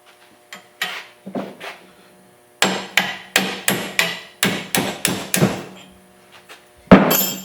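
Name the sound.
hammering a bolt out of a pickup leaf spring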